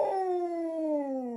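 A dog lets out one sustained, wavering howl that slowly falls in pitch, close and clear, with no talking.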